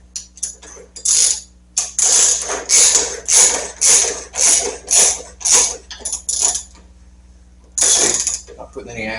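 A Road King front fork tube cap is turned into its threads by hand, a series of close rhythmic ratcheting bursts that repeat several times before a pause and one final burst.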